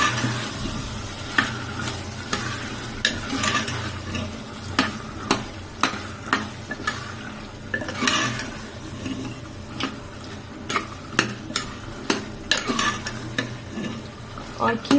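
Keema with potatoes fries in a pan with a steady sizzle while a spoon stirs and scrapes it, producing repeated close clacks against the pan over the constant hiss.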